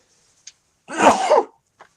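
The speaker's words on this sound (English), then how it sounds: "I'm going to sneeze, I think." A single sneeze-like burst of breath and voice, close and brief, surrounded by silence with faint small sounds before and after.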